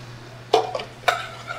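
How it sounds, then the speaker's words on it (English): A whisk working flour into butter for a roux strikes the pan twice with bright metallic clinks, followed by faint scraping, against a low steady hum. "Once we add the flour to the butter, we're gonna whisk it up."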